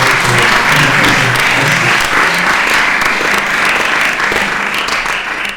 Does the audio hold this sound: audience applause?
yes